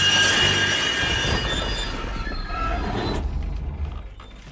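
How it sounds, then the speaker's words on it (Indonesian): A train, a rail car rolling on a bridge in the film Derailed (2002), brakes to a stop with loud sustained metallic wheel squeal and rumble that fades away near the end. "Ketika jembatan sudah diledakkan, tepat pada waktunya, kereta tersebut pun berhenti."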